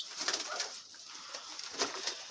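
Pigeons cooing inside a coop, a soft, continuous murmur of low coos and rustling, moderately close and fairly quiet.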